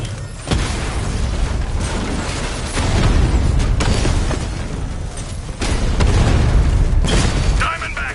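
An explosion striking a Diamondback tank in a Batman video game, heavy booming bursts and rumbling impacts in several surges under game voices and mechanical clatter.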